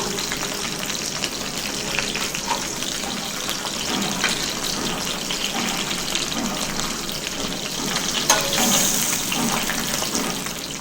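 Mackerel fish frying in oil with garlic cloves on a flat dosa griddle, a steady crackling sizzle at moderate level throughout, brightening briefly near the end.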